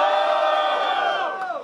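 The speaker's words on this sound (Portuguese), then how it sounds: "muito barulho para as rimas do Joey" Crowd at a Brazilian freestyle rap battle roaring and shouting after a rapper's verses, a loud sustained wall of cheers and whoops that fades slightly at the end.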